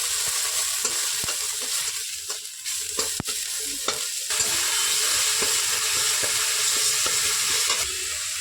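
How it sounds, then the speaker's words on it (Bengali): Turmeric, salt, cumin and coriander powder fry in a pan for a dal bora curry, with a loud, steady sizzle broken by occasional scraping stirs and light knocks of a spoon. "মশলাটা ভালোভাবে ভেজে নেব।"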